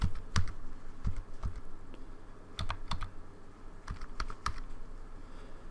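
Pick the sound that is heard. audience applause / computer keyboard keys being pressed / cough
computer keyboard keys being pressed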